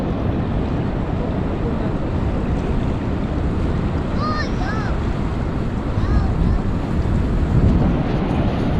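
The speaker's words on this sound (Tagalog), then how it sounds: "Sabi, ang laki ng alon" Big ocean waves crash and roll at a Siargao beach in a continuous loud roar, with gusty wind buffeting the microphone and faint voices briefly audible underneath.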